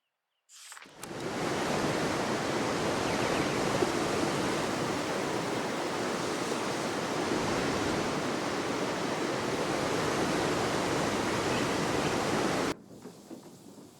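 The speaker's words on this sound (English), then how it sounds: "It always cracks me up how beautiful her house is. Right next to these waterfalls." Waterfalls rush beside a house in the SEASON: A letter to the future video game, a loud, steady roar of falling water that fades in, holds constant for about twelve seconds, then cuts off abruptly.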